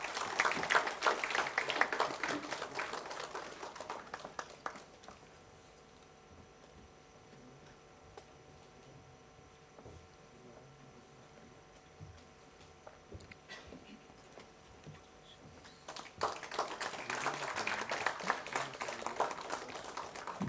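Audience at a university science event prize-giving in Goa claps in two bursts of scattered, moderately loud applause, separated by a quieter stretch of faint ticking room noise.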